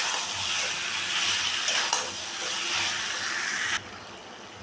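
Chicken pieces are mixed into a sautéed masala in a pan, with a steady frying hiss and a few scraping stirs and clinks, then the sizzle drops suddenly quieter near the end.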